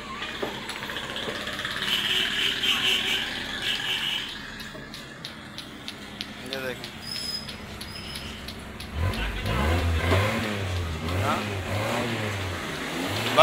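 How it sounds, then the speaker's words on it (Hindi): A gray 1986 Suzuki FX car engine revs in bursts, the roar rising and falling amid outdoor background noise, then voices chatter nearby toward the end. "गाड़ी की रेस देना।"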